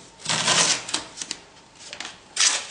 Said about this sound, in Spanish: Lo que voy a hacer es coger un buen trozo de cinta adhesiva